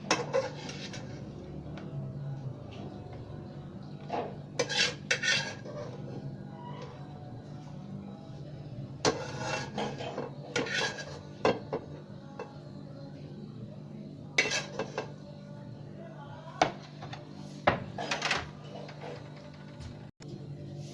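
Carrot halwa is scooped from a cooking pot into a serving dish, with intermittent metallic scrapes and clinks of a spoon against the pot, fairly quiet and spaced out over twenty seconds with no talking.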